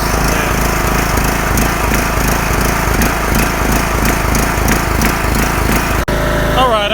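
Reconditioned engine of an old Craftsman lawn mower, fitted with a different carburetor, runs loud and steady nearby with a constant throbbing drone, then dips briefly near the end before carrying on.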